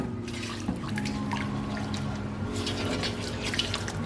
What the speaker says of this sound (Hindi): अब हम इसमें डालेंगे तकरीबन 100 ml के करीब ऑयल